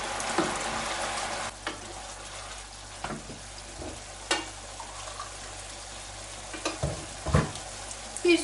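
Tomato paste frying in a pot, then hot water poured in and stirred: steady close sizzle with repeated spoon scrapes and stirring knocks, no talking.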